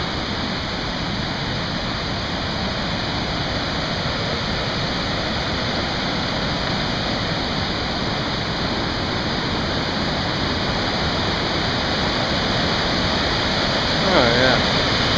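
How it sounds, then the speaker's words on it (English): A waterfall and rapids at Swallow Falls State Park in Maryland pour as a loud, dense, unbroken roar of rushing water that stays steady throughout, with a brief faint voice near the end. "Oh, beautiful water."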